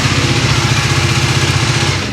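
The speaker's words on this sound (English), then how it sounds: "We've left the bike running for a few minutes" An Aprilia RS4 125 motorcycle engine idles warm after running a few minutes. The close, loud, rapid single-cylinder putter stays steady throughout, with no talk.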